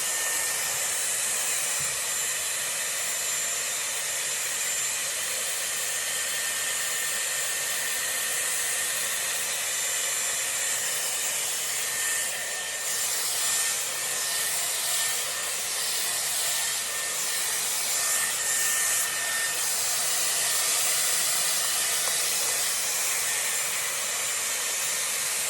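Dyson Airwrap round brush blowing hair dry, a steady, loud, continuous airflow hiss and whine that holds unbroken throughout, with slight shifts as the brush moves through the hair.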